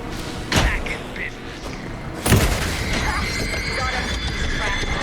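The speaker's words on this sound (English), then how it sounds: "Anderson, pin him down with gunfire for me to get the light on him." Gunfire in the video game Alan Wake 2, two heavy booming shots several seconds apart that crack over a murky background, with a player talking over the action.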